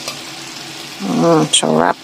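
Salted black beans fry in a pan with a soft, steady sizzle that runs beneath a woman's speech, close and moderate in level.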